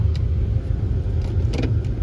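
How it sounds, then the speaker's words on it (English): A 2008 Ford Expedition Eddie Bauer engine idles steadily, with a smooth continuous low rumble and no ticking, close and fairly loud, with a few faint light clicks on top. "And the dang engine sounds good."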